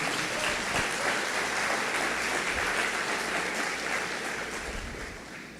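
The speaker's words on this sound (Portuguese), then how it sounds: "Você pode aplaudir ao nome do Senhor?" A church congregation applauds, a sustained wash of many hands clapping heard from across the room, steady and moderately loud before tapering off slightly at the end.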